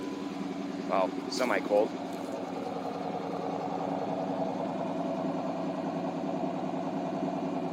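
A stock 2000-era Dodge Challenger R/T with a Hemi V8 and manual gearbox idles semi-cold with a steady, lumpy low rumble throughout, close by, while someone speaks briefly over it near the start.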